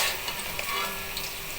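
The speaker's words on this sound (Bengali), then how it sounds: "এখন একটা একটা পিঠা আমি উল্টিয়ে দিই।" Pitha being turned over while frying in hot oil, with a brief, continuous sizzle close by and a couple of light taps.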